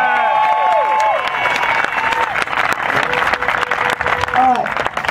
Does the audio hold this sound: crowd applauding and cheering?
yes